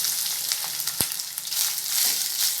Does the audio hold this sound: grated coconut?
yes